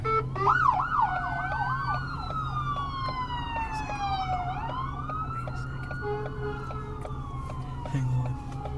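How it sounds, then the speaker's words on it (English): Several wailing and yelping police and ambulance sirens overlap, rising and falling at moderate distance over steady background traffic noise. "That's the police and ambulance going after Georgie."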